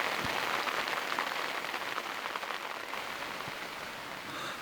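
Rain patters steadily on a moored sailboat at sea, a dense, even hiss with a few faint knocks, continuous and fairly quiet with no voices.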